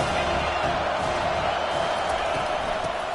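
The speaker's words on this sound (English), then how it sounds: "This crowd trying to make life miserable for this offense." Stadium crowd at a college football game, Bulldogs versus Tennessee, roaring continuously and loudly as a dense wash of cheering and noise with no breaks.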